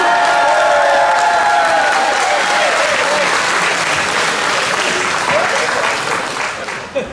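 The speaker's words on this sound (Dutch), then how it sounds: "En geef ze een groot applaus" The crowd at the end of the Denley Jollie versus Leonardo Brugman match bursts into loud applause mixed with cheers, whoops and shouts, a thick, close wall of clapping that gradually thins toward the end.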